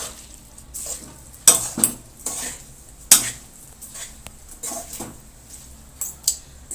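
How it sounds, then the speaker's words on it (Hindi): A spoon stirs and scrapes through raw mango (kairi) chutney in a metal pan, giving irregular clinks and scrapes with a few sharper knocks against the pan's sides, close up and with no talking. "तो अब इसमें हम कैरी डालेंगे। अब हम इसको मिक्स कर लेंगे।"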